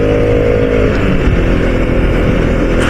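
A motorbike engine revs hard on the throttle during a mountain-road ride, a loud, close, continuous roar with no speech over it.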